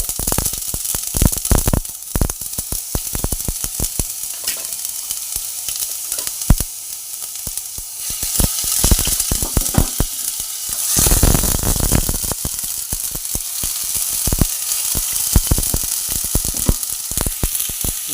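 Tomato paste hits a pan of oil tempered with cumin seeds and sizzles loudly and steadily, with dense crackling pops and occasional surges throughout.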